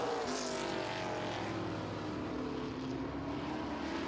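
Street stock race cars roar past at Owosso Speedway, a loud sustained engine drone with a slowly shifting pitch as the pack runs down the straightaway.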